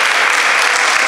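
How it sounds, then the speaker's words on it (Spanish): Brief burst of steady applause from an audience at a breast cancer talk, honoring a doctor on Doctors' Day; dense, even clapping fills the short moment with no voices. "Aplauso a la doctora, por favor."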